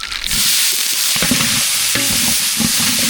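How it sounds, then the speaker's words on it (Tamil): Loud, steady sizzling and crackling of green chilies frying in hot oil with mustard seeds, for an eggplant pachadi, close up, with soft stirring clinks and no voices. "கடுகு நல்லா பிடிச்சிட்டு பச்சை மிளகாய் சேர்த்துக்கலாம்"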